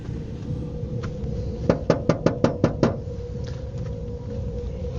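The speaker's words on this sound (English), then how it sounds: "Let's see what happens if I knock on the door." Knocking on a door in a cemetery at night, a quick run of about seven sharp raps close to the recorder, set against a steady background hum.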